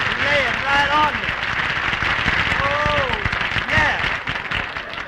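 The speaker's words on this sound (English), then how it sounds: "Phil, why do you always have to come in here and ask the audience to applaud?" A radio studio audience applauds in a loud, dense wash, with voices talking over the clapping.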